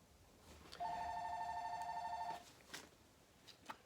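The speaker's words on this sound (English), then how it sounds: "I got a phone call" A telephone rings with an incoming call, one electronic ring of about a second and a half, a bright steady tone at moderate distance, followed by faint clicks.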